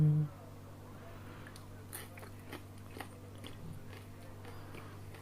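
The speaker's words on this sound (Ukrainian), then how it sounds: "А ну, треба ж скуштувати, як вони пахнуть ванілінчиком, а які вони хрумкі." Someone bites into crunchy baked buns stuffed with two fillings and scented with vanilla, with several soft crisp crunches and chewing spread across the moment, close and fairly quiet, with no talk.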